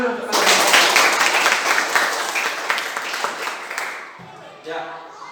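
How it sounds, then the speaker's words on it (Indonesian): Students in a physical education class clap their hands in a brisk burst of applause that slowly fades, followed by a teacher briefly speaking. "Tepuk tangan dulu untuk kalian."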